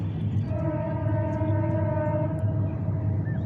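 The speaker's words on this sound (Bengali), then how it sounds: "ট্রেন যাচ্ছে ট্রেন" A train passes near a fairground with a large minaret nearby, heard as a steady rumble with a sustained horn-like tone over it, fairly close and loud.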